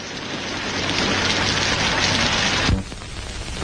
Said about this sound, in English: Does it ever do anything else besides rain?